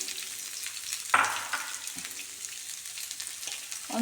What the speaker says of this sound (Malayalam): നമുക്ക് ഉള്ളി ഇതൊന്നും വഴറ്റണ്ടേ, കുറച്ചും കൂടി എണ്ണ വെച്ചു